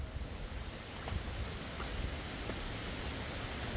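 The Poza del Perol waterfall in El Salvador roars with a steady, dense rush of falling water, constant and unbroken with no voices over it.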